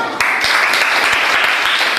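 A classroom of students claps for a classmate, a loud and close burst of many hands that starts abruptly and stays dense and steady to the end.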